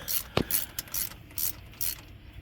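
A ratchet with a deep well socket loosens a stud during a timing chain and sprocket replacement, giving quick bursts of close, crisp clicking separated by short pauses, with no talking.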